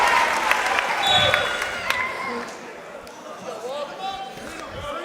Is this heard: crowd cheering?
yes